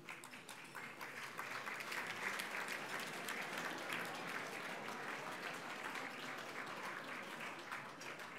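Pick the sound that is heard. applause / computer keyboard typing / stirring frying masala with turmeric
applause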